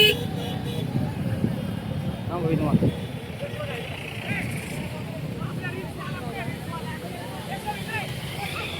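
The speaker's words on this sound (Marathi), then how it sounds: "फायनली एकामागून एक बाईक गाड्या अशी रॅली निघलेली." Motorbikes and other vehicles move slowly in a rally procession for a tribal day celebration in Akola, with engine rumble and occasional horn toots sounding faintly beneath someone talking.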